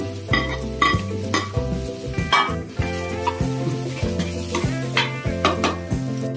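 Chopped tomatoes, curry leaves and coriander leaves hit sautéed onions in a pan for chicken curry, giving a close, loud sizzle. Rhythmic stirring scrapes cut through the sizzle, while a steady low tonal hum runs underneath.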